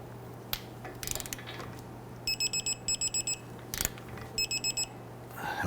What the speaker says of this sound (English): Let's torque down our nut.